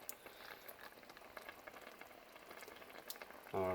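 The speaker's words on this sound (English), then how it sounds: "We're going to add in our crushed tomato here." Crushed tomato sizzles and fries in a jambalaya pot on a home stove, a steady close crackle with scattered pops and stirring clinks, swelling louder right at the end.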